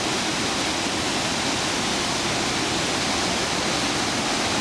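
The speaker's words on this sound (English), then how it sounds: "There's the weir and the weir pool." Water pouring over a low river weir into the weir pool below, a steady broadband rush that holds even and continuous throughout, close and fairly loud, with no voices.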